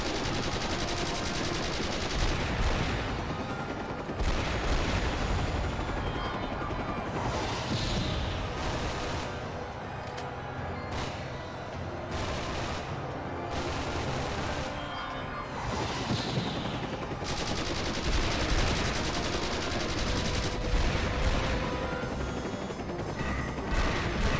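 Missile blasts and gunfire fill an air-strike battle in the video game The 3rd Birthday, a loud, dense and continuous barrage of rattling shots and booming explosions.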